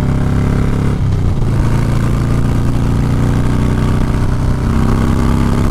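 A 2020 Harley-Davidson motorcycle engine runs during a full-throttle test, a loud, close, steady low rumble with a slight shift in pitch near the start and no talk over it.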